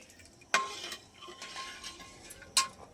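A spoon stirs five spoonfuls of sugar into water to dissolve it for homemade Sprite, giving soft swishing with two sharp clinks against the vessel, close and fairly quiet.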